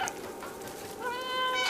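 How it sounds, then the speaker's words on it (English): A short cartoonish video game cat meow rises near the end, following a brief chirpy sound, close and clear with no talking. "There's a meow button."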